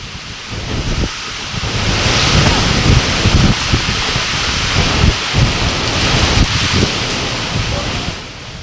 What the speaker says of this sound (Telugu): విశాఖలో నిన్న కురిసిన భారీ వర్షం